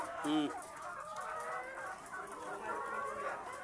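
A chicken gives a short cluck up close over steady outdoor background noise, with faint voices nearby.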